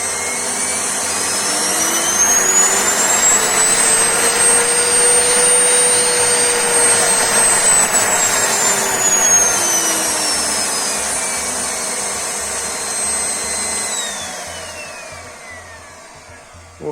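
A repaired household vacuum cleaner, fixed after a power cord fault, runs loud and steady up close, its motor pitch rising and falling as the speed is adjusted.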